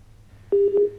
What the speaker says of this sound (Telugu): కాల్ కట్ అయిపోయిందండి